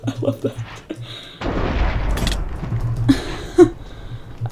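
A bomb goes off in a video game with a deep, rumbling blast that swells midway and lingers, with voices chattering under and around it.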